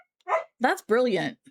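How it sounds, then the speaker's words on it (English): A giant Rottweiler puppy whines and yips in three short, close bursts, mixed in with a person speaking briefly nearby. "Your friend's dog, giant Rottweiler, is still a puppy, wouldn't shut up or calm down"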